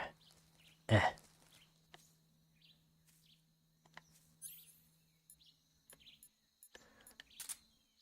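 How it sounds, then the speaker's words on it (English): Birds chirping in a video game, scattered faint tweets and chirps over a low hum, with a louder thump near the start and occasional clicks. "I hear some birds."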